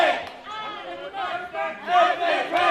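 A wrestling crowd at a BLW heavyweight championship main event roars and cheers in loud, swelling waves, many voices shouting together with no single voice standing out.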